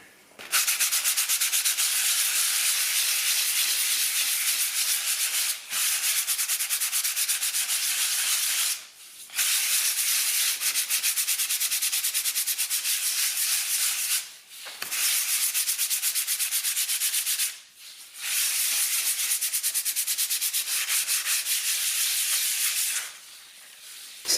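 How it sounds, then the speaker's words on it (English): Dried multi-purpose powder filler on a wall is sanded by hand in long, steady abrasive strokes, a loud close rasping that stops briefly four times between passes, with no talking. "So let's get the rest of these sanded down"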